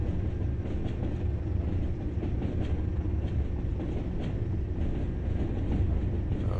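Simulated train from Train Sim World 2020 on the Tees Valley Line, a steady rumbling run with faint rhythmic clicks from the wheels, loud and continuous throughout with no talking.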